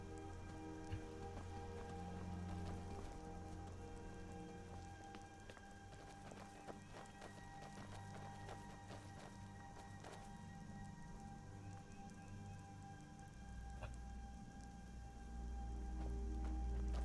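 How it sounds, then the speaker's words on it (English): Steady rainfall in the video game Skyrim, a continuous patter on the ground that runs unbroken for the whole stretch, with faint footstep-like scuffs mixed in and no voices. "How much rain does the ground drink a day, I wonder? It cannot seem to get enough."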